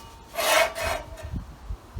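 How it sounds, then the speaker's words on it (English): A notch is sawn into a metal part for a B&M shifter riser on a 1936 Chevy coupe, one loud rasping stroke swelling and fading, then quieter scraping; no talk. "I'm going to cut a notch out of this."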